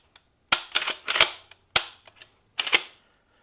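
Remington 870 Tactical shotgun being function checked: a series of crisp, close metallic clacks and clicks as the pump action cycles and the trigger snaps, in uneven clusters over a few seconds.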